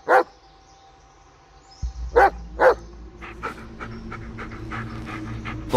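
A dog in the Blair Witch video game pants loudly and close, with sharp yips or barks at the start and again partway through, the panting continuing in quick breathy bursts.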